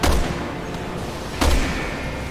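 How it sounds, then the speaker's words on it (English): Grenade launcher fire in the video game Resident Evil 6, two heavy booming blasts about a second and a half apart, each with a deep low thump and rumbling decay, loud and close with no talk. "Using a grenade launcher to hit."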